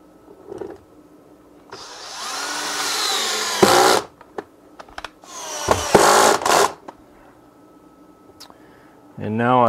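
Power drill driving screws into wood while building a rocket stove, with two sustained whirring bursts separated by short pauses and a faint voice at the start and end.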